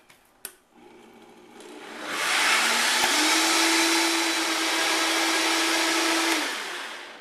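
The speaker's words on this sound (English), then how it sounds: "Put the top back on and blend some more." After a couple of sharp clicks, a countertop blender spins up and whirs loudly and steadily through cupcake batter for several seconds, its motor pitch holding firm before it winds down, with no voices.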